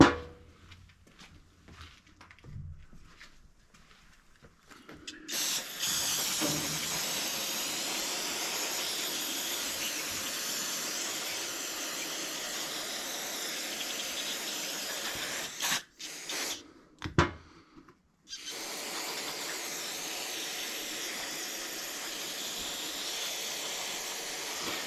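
Carb cleaner sprays onto carburetor parts from a Toro Z Master mower in long, close hissing bursts. A quiet gap comes first, and a short break falls midway before the spray resumes.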